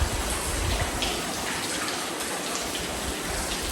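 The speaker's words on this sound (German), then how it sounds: "wo ein Wasserfall in die Höhle stürzt. Nur leider tropft er heute eher, als dass er fällt." Waterfall inside Smoo Cave, Scotland, reduced to heavy dripping and splashing, heard as a dense, steady wash of falling water that fills the cave space with no voices.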